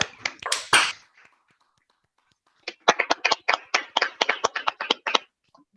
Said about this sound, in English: let's give a huge round of applause to what a wonderful team